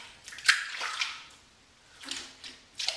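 Water splashes in short, soft bursts, three separate splashes spread across a few seconds, as a face is rinsed after a shave with a replaceable-blade barber shavette razor.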